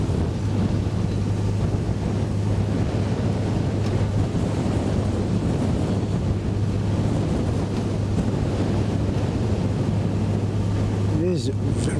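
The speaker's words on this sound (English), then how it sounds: "It is very, very cold though, that wind." Cold wind buffets a boat cruising the Norfolk Broads, a loud, constant roar across the microphone with a low engine drone underneath and a brief voice near the end.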